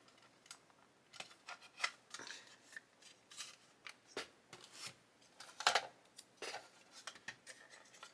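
Orange Mr. Hobby masking tape being handled while applied to a 1/35 scale Rye Field Model M109A7 kit, giving close, quiet crinkling, rubbing and snipping sounds in scattered short bursts with pauses between.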